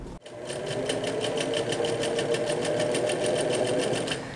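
A sewing machine stitching the side seams of a pair of shorts, running steadily and close for about four seconds with a fast, even mechanical whir after a brief start, no talking.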